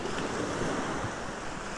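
Sea waves on the Baltic shore wash in with a steady broadband roar, blended with strong wind buffeting the microphone, close and continuous with no voices.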